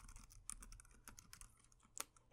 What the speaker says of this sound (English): You'll be hearing sounds from my keyboard.